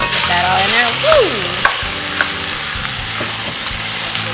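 Ground turkey browning and sizzling in a hot pan for chili, a steady frying hiss with stirring clatter and a few sharp utensil knocks; a person speaks briefly near the start.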